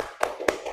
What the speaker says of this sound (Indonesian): Tepuk semangat. Semangat.